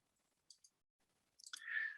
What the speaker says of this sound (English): pressing Control A on my keyboard, which selects all, and then pressing the delete key